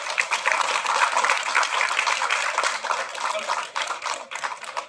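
Audience clapping at a Tamil film's audio and trailer launch event, a dense steady burst of applause throughout, fairly close and without voices.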